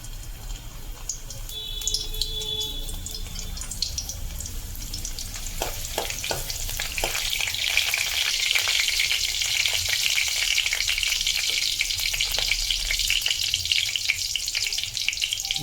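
Garlic sizzling in hot oil for a Malvani prawn curry, a steady bright crackle that swells louder and denser after a few seconds, with occasional stirring clinks and no talk.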